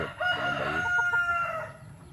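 A young stag rooster crows once nearby, a short, loud cock-a-doodle-doo with no talk over it.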